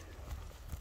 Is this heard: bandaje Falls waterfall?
no